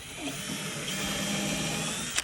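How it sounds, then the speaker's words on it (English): A power drill bores screw holes into the wood of a top bar beehive, a loud, continuous high whine close by that runs steadily and ends with a short sharp burst. "I'm gonna go and drill at that same level, about 1/4 of an inch, and down this way"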